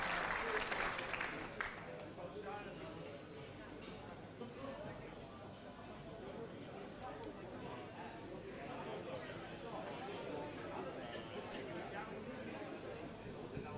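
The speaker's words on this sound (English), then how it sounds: "What about a big round of applause for our winners in the under-14 division" An audience applauds winners of an under-14 girls junior football division at an awards event, scattered clapping with crowd chatter at a distance, fading to a low murmur.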